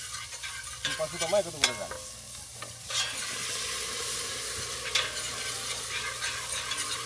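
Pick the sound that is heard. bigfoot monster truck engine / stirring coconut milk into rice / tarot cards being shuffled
stirring coconut milk into rice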